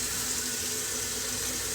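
Hot water running from a kitchen tap, a steady, close hiss of flowing water with no break and no talk.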